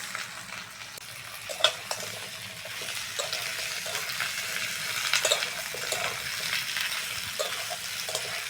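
Pointed gourd and potatoes fry with onions in a pan, a continuous close sizzle broken by scraping stirs and occasional clinks of a spatula, with no talking.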